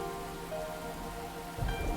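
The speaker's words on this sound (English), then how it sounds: "the crack of thunder roars in the distance, thwarting our plans. The intensity of the rain also picks up." Steady, dense rain pours in a visual novel game scene, a continuous hiss that swells slightly near the end as a low distant thunder rumble rolls in beneath it.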